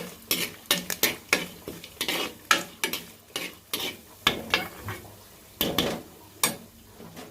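Makhana (lotus seeds) roasting in a pan with coconut oil, stirred with a utensil that makes repeated sharp scraping clicks at an uneven rhythm over a faint sizzle, close and moderately loud with no talking.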